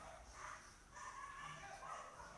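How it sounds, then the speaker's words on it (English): Several dogs bark outside, faint and distant, in a continuous overlapping chorus. "dogs barking outside."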